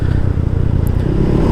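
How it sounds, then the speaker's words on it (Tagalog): Loud motorcycle exhaust with no silencer fitted, a steady rough engine roar with uneven throttle pulses, close and continuous throughout with no talking. "Yung ginagawa ko dun sa tambutso kung walang silencer"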